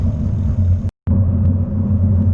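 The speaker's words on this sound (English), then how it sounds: "Just see someone go past in a car" A car passes on a road by a canal, its loud, steady engine rumble filling the air, broken by a brief moment of silence before the drone resumes.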